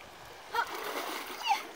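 Water splashes softly as someone climbs out of the sea after snorkeling, two short sloshing bursts a second apart, quiet and close, with faint ambient noise between.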